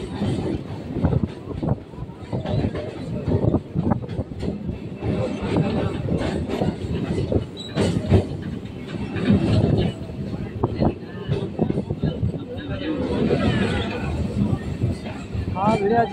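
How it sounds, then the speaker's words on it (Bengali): A Sealdah–Budge Budge local train pulls out of Lake Gardens toward Tollygunge, wheels clattering over rail joints in a loud uneven rhythm with occasional squeals, while passengers chatter in the carriage. "ট্রেন এখন লেক গার্ডেন্স স্টেশন ছেড়ে বেরিয়ে গেল"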